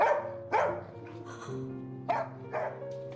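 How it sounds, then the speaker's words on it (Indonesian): A dog in a Korean film scene barks in several sharp, close bursts with short gaps, some yelping and whimpering in between, over a steady low musical tone. "terus menggonggong seakan ingin keluar"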